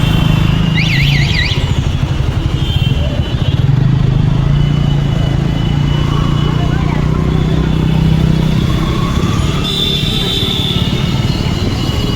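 A scooter's engine drones steadily while riding through traffic, with road rumble and passing vehicles throughout and people talking over the noise.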